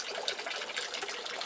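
Hot water gushing from a black hose fed by an overflowing barrel, a steady close rushing splash that stays even and fairly loud throughout, with no voices.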